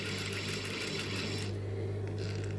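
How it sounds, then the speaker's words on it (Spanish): A sewing machine runs steadily, stitching the finishing seam of a front armhole on a garment, a constant close whir with a low motor hum throughout and no voices. "directamente voy a hacer ese centímetro de costura haciendo la terminación de la sisa del delantero"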